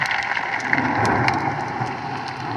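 Steady heavy rain from a storm in the Roblox game The Mimic hisses and patters throughout, with a faint low rumble suggesting distant thunder underneath.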